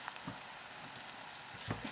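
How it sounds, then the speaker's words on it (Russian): Champignon mushrooms go into a frying pan with fish, giving a steady, fairly faint sizzle of frying with a few small soft pops and stirring touches throughout. "Поспешим добавить сюда уже наших шампиньонов."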